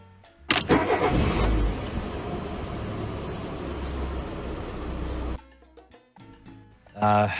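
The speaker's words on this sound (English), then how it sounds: "Let me put on an audio clip of a car revving right here." A car engine starts with a loud burst, then runs and revs steadily at close range before cutting off abruptly, followed by brief voices.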